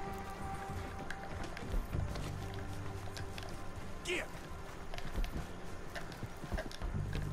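Horse hooves gallop in Red Dead Redemption 2, a steady rhythmic clip-clop of hoofbeats moving at speed, mid-level and continuous under game ambience, with someone talking over it.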